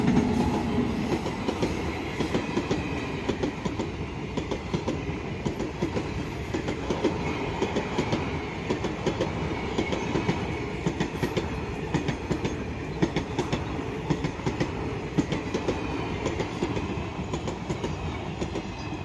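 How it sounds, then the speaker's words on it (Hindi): A train rolls past a station at a level crossing, a loud continuous rumble with steady clickety-clack from the wheels and wagons lasting throughout, with no speech over it. "देख लो ट्रेन"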